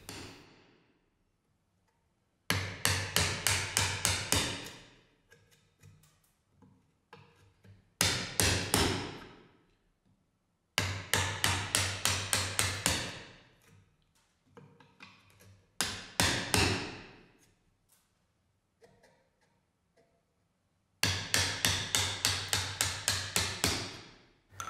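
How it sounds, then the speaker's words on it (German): A mallet drives a chisel into wood to chop a mortise for a mitred mortise-and-tenon joint with rabbet, the close, sharp blows coming in quick rhythmic bursts of several strikes, separated by short pauses. "Ab hier kann das Stemmeisen leicht nach außen gekippt werden, sodass der Schlitzgrund leicht hinterstemmt wird."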